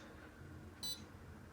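A kiln controller alarm gives a single short electronic beep, faint and brief, over a quiet room hum.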